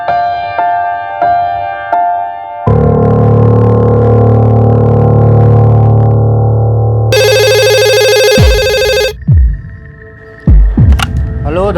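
A telephone call to a workshop produces a series of electronic tones: short beeps, a long steady ringing tone, then a bright warbling ring, with brief knocks and clicks near the end.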